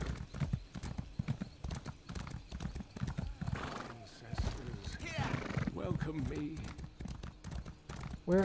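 A horse in the video game Elder Scrolls Online gallops with fast, continuous hoofbeats and lets out whinnying neighs midway, loud and close, with a voice talking over it.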